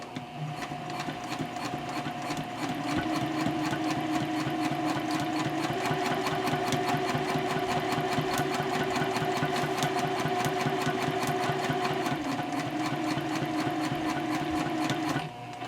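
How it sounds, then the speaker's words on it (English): A sewing machine stitches across a mini backpack, a steady close mechanical whir with rapid even needle ticking that runs continuously and then stops at the end. "Now I'll sew across to the other side."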